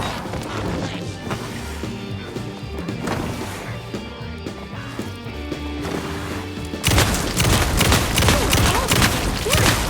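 Gunfire in the video game Alan Wake 2, a run of sharp cracks and impacts over a tense game soundscape, turning into a loud dense burst of crashing shots and chaos in the final few seconds.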